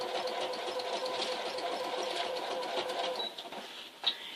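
A sewing machine runs at a slowed pace while free-motion quilting on newspaper, giving a steady close whirring hum that cuts off near the end with a couple of small clicks.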